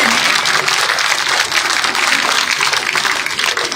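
A crowd at an outdoor village political rally in Haryana claps loudly and continuously to welcome a local MLA, a dense unbroken roar of applause throughout.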